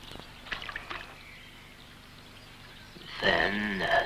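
Groundbait lobbed into a river swim while fishing for roach: a few soft splashes and plops early on, then a brief burst of louder watery sloshing near the end, no speech.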